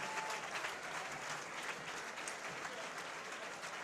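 An audience at the Lindy Focus swing dance event applauds in a continuous, even wash of clapping that sounds somewhat distant and soft throughout.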